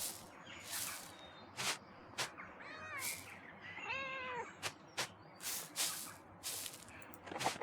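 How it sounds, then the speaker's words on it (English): A cat in the video game Pentiment gives a couple of short meows amid repeated hissing, sprayed noise bursts, with a brief spoken word at the start. "But not before we pet this kitty here."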